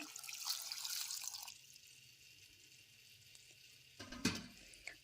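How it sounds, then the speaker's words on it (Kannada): Water pouring and splashing into a pot of cucumbers on a stove for temple-style Mangalore cucumber sambar, a steady bright hiss for over a second, then a short splashy gush near the end. "ಹಾಗೆ ಸೌತೆಕಾಯಿ ಮುಳುಗೋ ತನಕ ನೀರು ಹಾಕ್ಕೊಳ್ತೇನೆ."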